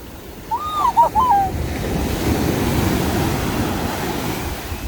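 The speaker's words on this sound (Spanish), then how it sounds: "Que la ola es muy grande, es la bandera roja esta." Large waves breaking on Viña del Mar beach in Chile under red-flag conditions, a steady close roar of surf with wind. A brief whistled bird call comes early, and the wash continues without pause.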